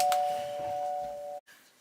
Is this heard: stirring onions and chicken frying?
no